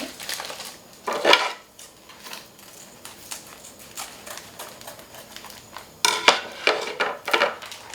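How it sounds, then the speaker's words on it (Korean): Dried chilies and soaked wood ear mushrooms being stir-fried in a pan for seafood jjamppong: two bursts of metal clattering and scraping, one near the start and a longer run toward the end, with quieter pan noise between. "아까 불려놓은 이목이부버섯까지 같이 볶아줄 거예요"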